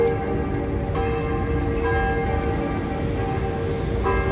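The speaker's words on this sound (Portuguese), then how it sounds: "Conseguem ver o sino da Basílica Antiga tocando?" The large bell of the Old Basilica in Aparecida, São Paulo, tolls continuously, its ringing tones sustained and overlapping over a steady background hum.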